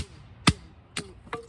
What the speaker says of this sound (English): I'm gonna drive the spike end in here.